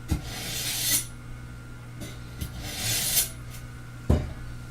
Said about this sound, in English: I'm just going to run this a few times here across this sharpener.